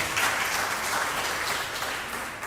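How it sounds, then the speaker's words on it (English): An audience at a foundation event breaks into steady applause, a continuous soft wash of many hands clapping together that slowly fades slightly by the end. "Give her a round of applause."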